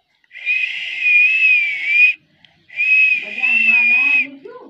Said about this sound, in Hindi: तो फिर बजा दे मिट्टू सीटी